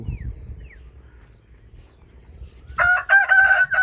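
A rooster crows loudly and close at the end, after a stretch of quiet with faint bird chirps and low rustling.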